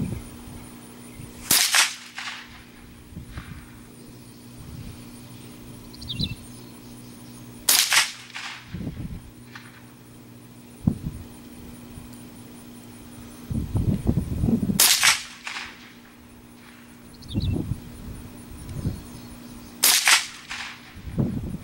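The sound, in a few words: Savage 64F .22lr rifle shots, 5-shot group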